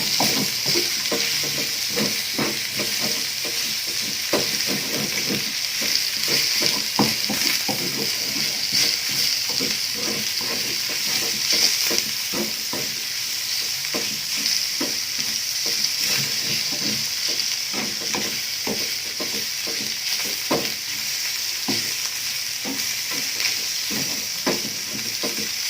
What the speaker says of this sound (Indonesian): Kita aduk sampai dia merata sama bumbunya.